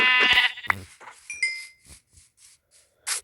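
Sheep bleating in Minecraft, a strong wavering bleat up front followed by lighter game effects and soft clicks, then a short final burst.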